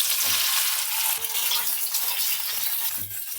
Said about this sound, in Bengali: এবার আমি সয়াবিনগুলোকেও ভেজে নেব।